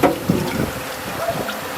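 Engine oil draining from a Ford Taurus SHO during servicing makes a steady, close liquid pouring and splashing that runs without break throughout.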